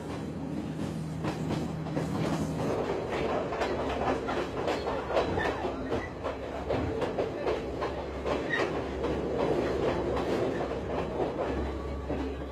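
A train rumbles along the tracks in Sri Lanka with a steady rhythmic clatter of wheels over rail joints, heard from inside a carriage.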